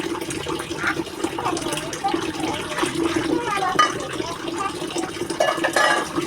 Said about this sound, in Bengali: তো ভাতের চাল ধোয়াতে পানি দিয়ে দিলাম